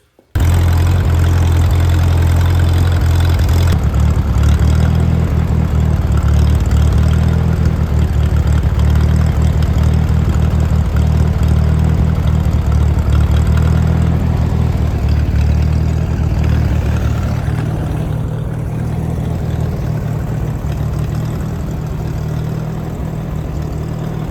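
A 1959 Minneapolis Moline 4 Star tractor runs and drives at night with freshly replaced ignition points, its engine a loud, steady low rumble close by that shifts in tone after a few seconds and eases slightly toward the end.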